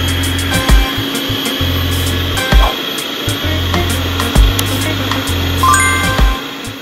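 A kitchen blender pulses banana ice cream with Grape-Nuts, its motor whirring in short, regular bursts with brief pauses between them, loud and close with no talk.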